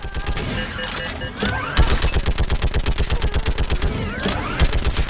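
Loud, rhythmic automatic gunfire in a sci-fi battle on Thessia, a fast steady string of close shots with scattered impacts and a few shouted voices over it.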